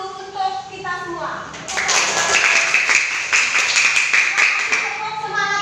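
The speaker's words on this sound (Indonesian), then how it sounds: "tepuk tangan dulu untuk kita semua" A classroom of children applauds together, a dense patter of clapping hands that swells after a teacher's voice and fills the room, with talk before and at the end.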